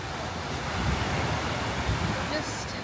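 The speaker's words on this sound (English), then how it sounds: "The waves are so strong here" Strong ocean waves breaking on a beach in Koh Samui, a steady, close, rushing roar of surf mixed with wind buffeting the microphone for the whole stretch.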